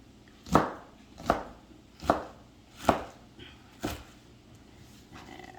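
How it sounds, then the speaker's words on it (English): A manual chopper coarsely cuts green onions with five sharp, evenly spaced chopping thuds, close and clear, followed by a faint rustle. "We're going to cut, just kind of coarsely cut our green onions."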